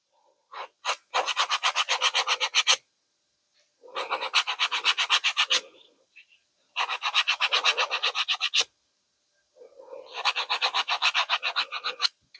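An emery block rubbed briskly back and forth in four long bursts of rapid rasping strokes, close and loud with short pauses between, during doll-making craft work.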